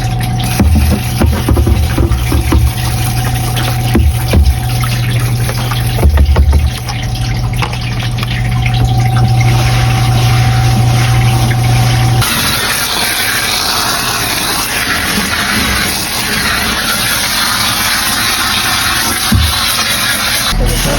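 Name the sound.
water rinsing a Manitowoc Indigo ice machine during cleaning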